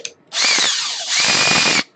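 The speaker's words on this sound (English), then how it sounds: "I'm going to use the drill" A handheld power drill spins printed parts on linear rods while a Prusa i3 MK2s 3D printer Y-axis is being assembled, giving a loud steady high whine for about a second and a half with a brief dip midway.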